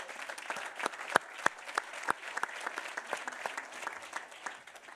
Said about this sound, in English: I applaud you, sir, and I think we all applaud you